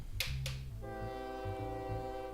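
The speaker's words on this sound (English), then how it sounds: "is that a goods train? I think it's a goods train." Goods train in the OpenTTD video game, two short hissing bursts followed by a sustained, steady train horn tone over a low rumbling game soundtrack.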